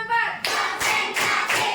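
Several bursts of hand clapping follow one another in a steady rhythm, preceded by a brief vocal sound.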